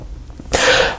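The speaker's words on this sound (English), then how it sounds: "I'm gonna sneeze" A single sharp sneeze bursts out close to the microphone during a tarot deck walkthrough, a brief broadband explosion after a faint intake, ending with a small catch of breath.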